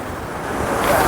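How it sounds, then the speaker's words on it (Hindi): Sea waves surge and wash around the rocky base of Tanah Lot temple on the Bali coast, a steady close roar with wind buffeting the microphone. "पानी की जो लहरें आती हैं ना"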